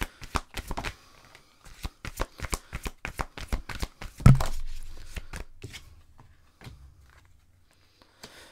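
A deck of oracle cards is shuffled by hand for a four-card reading, giving a rapid series of crisp riffling slaps close up, then a single louder thump and a fading soft rustle with no talking.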